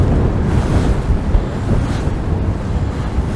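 Strong gale-force wind buffets the microphone nonstop beside open water with surf, a loud rumbling roar across the whole stretch, gusting slightly but never easing, at a windswept fishing peg.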